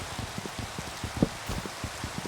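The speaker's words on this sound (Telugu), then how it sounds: "వర్షం పడింది." Steady rain patters across a surface in the video game Minecraft, a soft continuous hiss with scattered drop taps, no voices.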